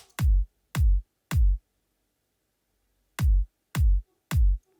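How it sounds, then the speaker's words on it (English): Deep electronic kick drum from Logic Pro's Drum Machine Designer After Party kit, three punchy booming hits in quick succession, a pause, then three more, each isolated and loud. "you can find the kicks of After Party sound like this"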